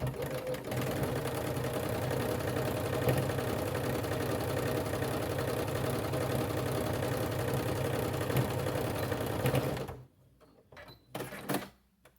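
A sewing machine runs steadily for about ten seconds, sewing a quarter-inch seam on a Christmas stocking, then stops, followed by a few short handling clicks.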